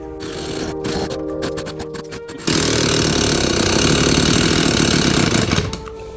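An old chainsaw engine runs on ether starting fluid, sputtering roughly at first, then catching into a louder, steadier buzzing run for a few seconds before it dies off.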